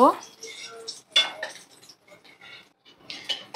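Metal utensils clink and scrape against a pan and plate as fried eggplant slices are lifted out, several sharp, close clatters in short bursts with pauses between.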